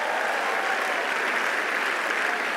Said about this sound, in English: can somebody give a hand clap to Jesus right now